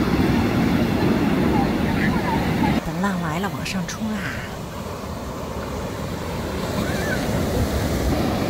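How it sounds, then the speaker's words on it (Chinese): Ocean surf rolls steadily onto a state beach in Santa Cruz, California, a loud continuous wash with wind across the microphone and a brief distant engine hum partway through. "涛声特别好听"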